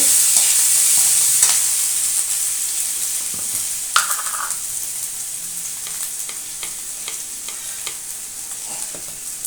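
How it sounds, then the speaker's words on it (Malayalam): Crushed ginger and garlic fry in hot oil in a pan for a crab roast, making a steady loud sizzle that settles slightly as it goes on, with occasional sharp stirring scrapes and no talking. "ഇനി നമുക്ക് ഇഞ്ചി വെളുത്തുള്ളി ചതച്ച് ചതച്ചത് ഇടാം അതൊന്ന് മൂത്ത് വന്നിട്ട്"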